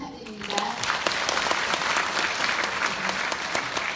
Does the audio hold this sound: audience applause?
yes